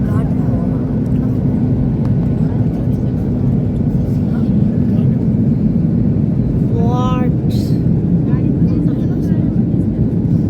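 Steady, loud cabin drone of a passenger airplane in flight on a Thailand to India trip, a constant broadband roar throughout with a brief chime-like tone partway through.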